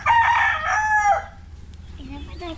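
A rooster crows loudly up close in one long drawn-out call, followed by a few softer clucks from chickens nearby.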